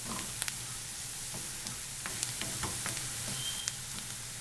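Onions and garlic sizzling in a pan for a smoked salmon pasta: a faint, steady frying hiss over a low hum, with occasional light clicks of a utensil.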